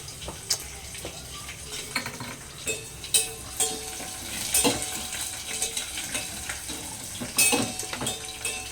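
Onions frying for Maggi noodles give a steady, close sizzle in the pan, broken by spoon scrapes and metallic clinks against the vessel as they are stirred.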